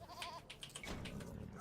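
Sheep bleating in the Age of Empires 2 strategy game, a couple of short wavering bleats, faint and close, with no talk over them.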